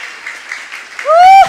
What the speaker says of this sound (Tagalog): Palakpak ng malakas.